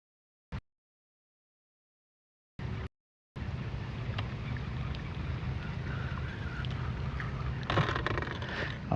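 Wind blows on Lake Guntersville from a bass fishing boat, a steady rushing buffet across the microphone after a couple of brief knocks, continuous and fairly even.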